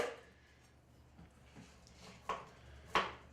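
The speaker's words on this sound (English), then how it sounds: "we're going to rough chop these" A knife rough-chops celery, carrots and onion for a mirepoix. A few soft, uneven cuts are followed by two sharper, louder knocks on the board, with no talking.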